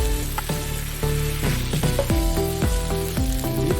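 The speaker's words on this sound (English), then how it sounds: "And just stir it all in." Warm potato salad with bacon chunks is stirred in a hot pan, making a steady sizzle under repeated scraping strokes of a utensil against the pan, close and fairly loud.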